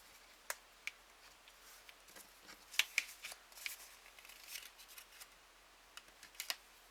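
Paper card pressed and creased with a bone folder, giving soft scattered scrapes and crisp little ticks, quiet and close, with no talking.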